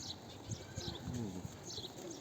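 Soft, low cooing from a fancy breed pigeon repeats a few times at close range over a faint hiss and quiet background noise.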